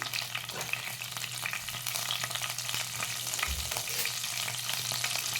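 Cumin seeds crackle in hot oil in a pan while a Punjabi-style parval curry is started, a steady close sizzle with dense fine popping and a faint low hum beneath, no voices.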